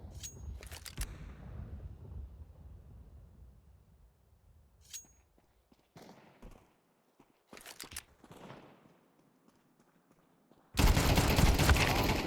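Pistol fire in Counter-Strike 2 on the Dust2 map during a Masters match, several sharp bursts of shots scattered across the stretch with quiet footsteps between, ending in a loud dense stretch of noise.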